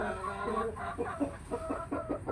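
A chicken clucks close by in a series of short rhythmic clucks, moderately loud, with soft background noise.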